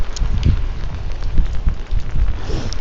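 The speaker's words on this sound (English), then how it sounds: "It should rain pretty well." Rain drums on a military-style poncho, dense close patter with irregular heavier drop thuds throughout, no voices.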